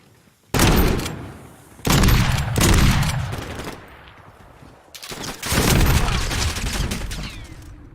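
Bursts of rapid automatic gunfire from Call of Duty Modern Warfare II, loud and close, in several strings of shots separated by brief pauses.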